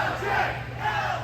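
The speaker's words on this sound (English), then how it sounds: "Listen to the crowd." A wrestling crowd at a live CCW event in Kissimmee, Florida cheers and roars in a loud, sustained wash of many voices.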